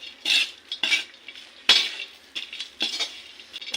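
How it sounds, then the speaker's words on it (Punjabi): Desiccated coconut roasts in a pan while a utensil stirs it, giving repeated scraping strokes against the metal over a light sizzle. "ਨਾਰੀਅਲ ਦਾ ਬੁਰਾਦਾ ਹੈ ਵੀ ਇਹਦੇ ਚ ਪਾ ਦਾਂਗੇ ਤੇ ਇਹਨੂੰ ਵੀ ਆਪਾਂ ਹਲਕਾ ਜਿਹਾ ਦੇ ਨਾਲ ਹੁਣ ਰੋਸਟ ਕਰ ਲਾਂਗੇ"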